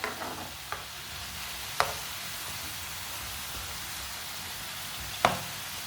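Potato and egg cutlets fry in a pan, a steady close hiss of sizzling oil broken by a few sharp clinks or taps.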